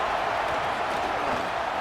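A home crowd roars at a Wisconsin Badgers college football game, a dense and steady wash of stadium noise that holds at full volume throughout.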